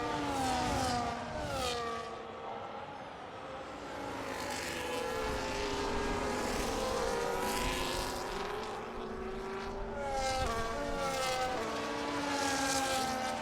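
A Ferrari race car engine in a racing video game during a Hungary race, a steady high-revving whine with rising and falling gear-change sweeps, other cars' engines blending in, continuous and fairly loud throughout.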